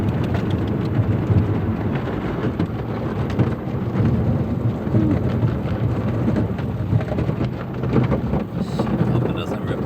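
Inside a car going through an automatic car wash, water sprays and drums steadily on the body for the whole stretch, loud and enveloping, with faint voices underneath.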